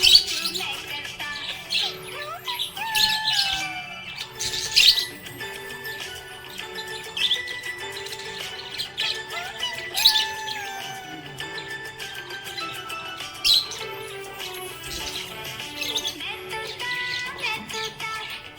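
A pet budgie chirping happily, with repeated bright tweets, trills and squawks in quick irregular bursts, close and fairly loud throughout.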